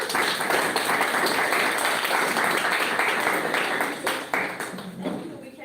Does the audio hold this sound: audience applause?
yes